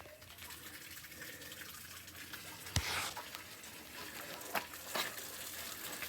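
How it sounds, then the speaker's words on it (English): Clean water from a standard garden hose flushes out through the frame rails of a Jeep TJ, a continuous trickling gush and splash with a few sharper spurts and knocks along the way, close by and with no talking. "now we've got pretty much just clean water running out"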